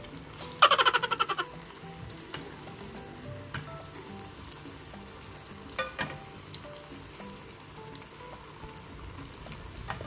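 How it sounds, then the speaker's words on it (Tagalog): Sardine meatballs frying in hot oil, with a brief burst of crackling sizzle near the start and then a quiet, steady hiss with occasional faint pops. "Kung mainit na ang mantika, ilagay ang bola-bola."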